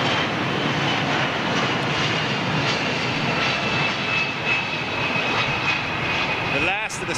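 Jet airliner just off the runway at London Heathrow, a steady loud roar of aircraft engines filling the whole stretch, with a voice talking over it.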